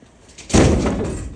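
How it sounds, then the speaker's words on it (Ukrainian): An indoor door bangs shut in a draught near a greenhouse, one sudden loud close slam that rings briefly, with a softer rustle just before it. "Ох, як бахнули двері, сквозняк."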